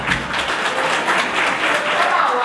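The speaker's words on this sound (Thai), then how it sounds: "ขอเสียงปรบมือให้เจ้าบ่าวนะครับ" Guests at a Thai wedding clap for the groom, a steady crowd applause that fills the short span at even loudness, with some voices mixed in.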